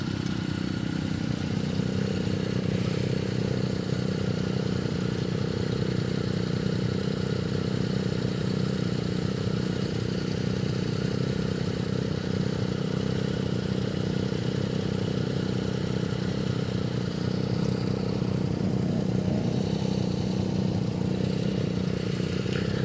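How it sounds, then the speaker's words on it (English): A motorcycle engine idles steadily for the whole stretch, a constant low, throbbing rumble with a faint mechanical clatter and no speech. "Look at that S2R 1000. God, that's a fucking motorcycle."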